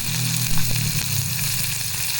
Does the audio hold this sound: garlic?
yes